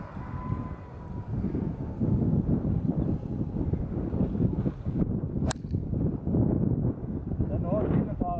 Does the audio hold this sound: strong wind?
yes